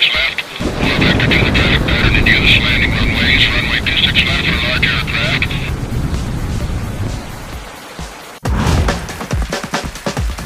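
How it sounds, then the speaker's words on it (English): A passenger airliner touches down on an airport runway in the mobile flight game Robot Airplane Pilot Simulator, with a loud, sustained engine roar and rumble that fades near the end before a brief burst of renewed noise. "Plane has been landed safely on the runway."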